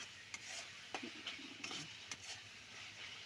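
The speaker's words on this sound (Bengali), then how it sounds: "জল দিয়ে আবার একটু কষছি" Masala sautéing in a pan after water is added: a soft hiss and sizzle broken by several scraping stirs of a utensil against the pan, faint and close, with no voices.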